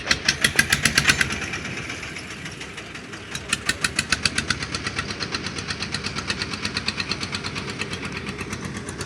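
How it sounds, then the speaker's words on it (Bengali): A boat driven by a shallow pump engine putters nearby on the water, a rapid, even knocking beat that dips briefly and then keeps a steady rhythm throughout. "শ্যালো বাইর দিচ্ছে শ্যালো মেশিন টার দিয়ে নৌকাটা নিয়ে চলে যাচ্ছে"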